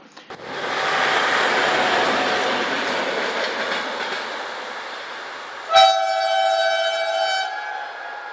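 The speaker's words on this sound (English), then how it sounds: "the lights started flashing, gates started coming down, and I knew a train was coming" A train rumbles loudly and steadily through a level crossing with flashing lights and lowering gates, and midway a sustained multi-tone horn blasts over the continuing roar.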